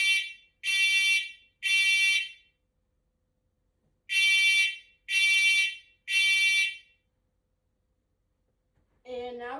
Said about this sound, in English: So now we're testing the smoke alarm in the master bedroom.